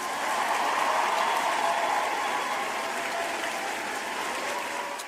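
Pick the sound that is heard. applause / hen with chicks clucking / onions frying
applause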